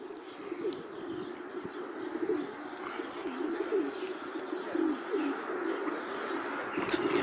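Racing pigeons coo in soft, repeated low calls at a loft during a winter race finale as the birds arrive, with faint chirps and outdoor ambience throughout.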